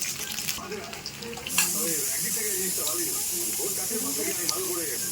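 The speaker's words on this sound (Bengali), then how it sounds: "আলুটা আমি একটু ভেজে নেব" A potato frying in a pan, making a continuous hissing sizzle close by while a voice talks over it.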